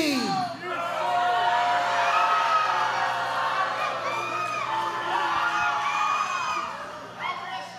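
A live wrestling arena crowd at an OVW television event cheers, whoops and screams continuously with many overlapping voices, loud and sustained throughout.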